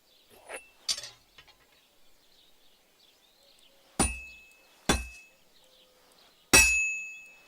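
A blacksmith's hammer strikes hot metal on an anvil in Kingdom Come Deliverance 2, three bright ringing clangs spaced a second or more apart, each with a sustained metallic ring, after a few lighter clinks and taps.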